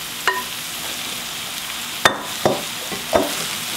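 Stuffed cabbage rolls fry in a pan with a constant close sizzle, broken by several sharp clinks and scrapes of a utensil being moved against the pan.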